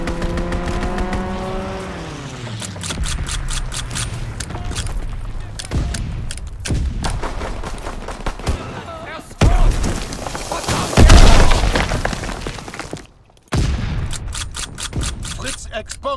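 Aircraft strafing runs in Call of Duty WWII bring bursts of rapid gunfire, loud booms and roaring engine passes amid chaotic battle noise, with sharp impacts and a heavy blast near the end, alongside game voice callouts.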